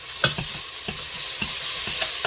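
Onions caramelize in a pan with a steady soft sizzle, as a utensil stirs and taps against the pan in quick light scrapes.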